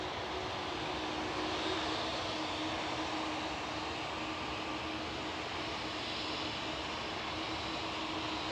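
An airliner on flight 2668 to Palma takes off at Manchester Airport, its engines making a steady, distant, even roar with a faint tonal whine and no talk.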